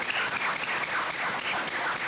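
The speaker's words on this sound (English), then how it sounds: "So everybody give her a round of applause." An audience claps at a health policy conference, a steady burst of applause lasting a couple of seconds with no voices.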